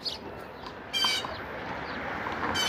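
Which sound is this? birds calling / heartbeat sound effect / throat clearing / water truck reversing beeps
birds calling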